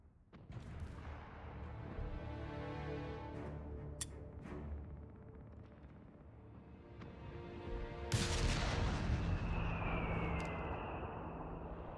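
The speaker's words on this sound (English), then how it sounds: "Barrage on my mark." An artillery barrage in the video game Company of Heroes 3 booms repeatedly with sharp blasts and rumbling explosions, building in intensity toward the end amid battle noise.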